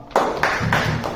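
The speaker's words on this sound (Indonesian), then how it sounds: "Kita kasih tepuk tangan dulu ya." A small classroom group claps together, a few quick rounds of loud close applause with a brief rhythmic pattern, no talking over it.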